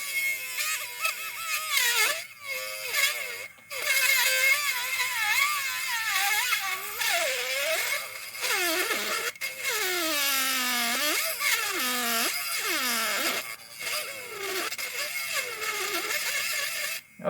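Black & Decker rotary tool spinning at speed 3, a steady high whine with pitch that rises and dips as the load changes, close and continuous with brief drops.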